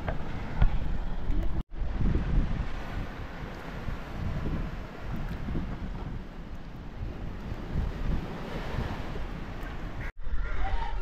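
Sea waves washing ashore at Arnala fort near Virar, a steady broad rushing surf with heavy wind buffeting the microphone and no clear voices.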